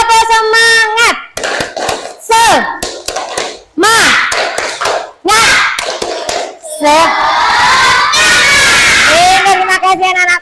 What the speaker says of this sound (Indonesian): Coba biar tambah semangat lagi, kita tepuk semangat dulu. 1, 2, 3, tepuk semangat.